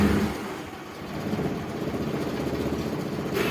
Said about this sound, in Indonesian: sekarang kita nyalakan mobilnya.